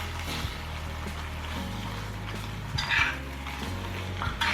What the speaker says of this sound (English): Mix it with the vegetables in the pot.